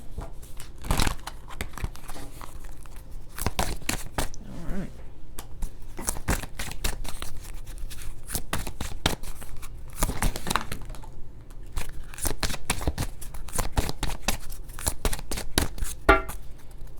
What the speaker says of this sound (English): we're going to close this out with some oracle cards